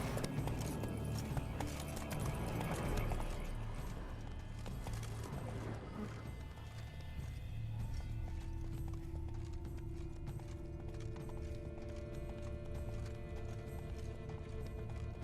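Horse hooves clip-clop at a gallop in The Witcher 3 video game, a quick rhythmic pounding that is loudest at first, then fades under a low droning score.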